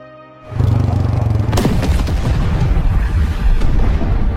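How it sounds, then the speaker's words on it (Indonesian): A landmine explodes with a loud, deep boom that erupts suddenly, followed by a sustained low rumble and crackling noise. "Teman Martin tewas meledak, akibat sebuah ranjau."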